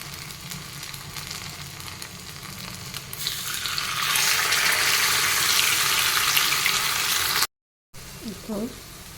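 Rava veg paniyaram batter poured into the hollows of a paniyaram pan over medium flame, starting as a low hiss and swelling into a loud, dense, close sizzle that runs steadily before a brief cut.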